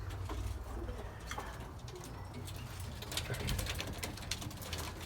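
Pigeons in a racing pigeon loft coo softly and repeatedly, faint against a constant background rustle and hiss.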